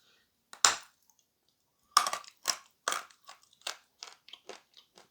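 Edible clay is bitten and chewed up close in a quiet room: one sharp crunch, a pause, then a run of brittle, glassy crunches fading into smaller chewing crackles.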